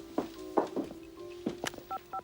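A telephone is dialed in a 1993 crime thriller film scene: a few soft thunks of handling, then two short, clear touch-tone beeps near the end, fairly quiet with no talking.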